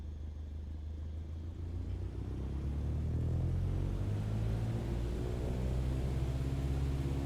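An airplane engine in a flight video game spools up to full throttle for takeoff, a low droning rumble that swells over the first few seconds and then holds steady and loud.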